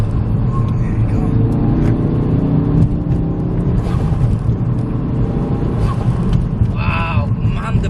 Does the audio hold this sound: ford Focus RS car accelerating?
yes